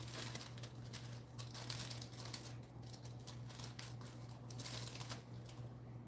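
Thin hair-highlighting foils folded and crinkled by hand during a long-hair highlighting job, a soft continuous crackle and rustle with brief sharper crinkles, close and quiet over a steady low hum.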